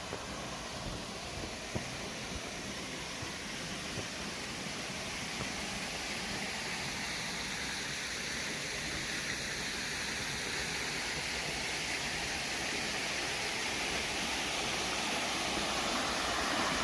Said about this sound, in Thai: เดินมาช่วงนี้ก็จะได้ยินเสียง เสียงน้ำตกครับน้ำตก จำลองที่ทางวัดได้ทำไว้นะครับ